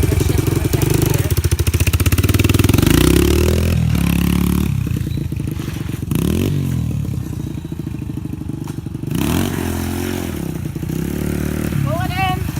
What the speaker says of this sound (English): I'm going to go down and I'm going to shift in the second gear.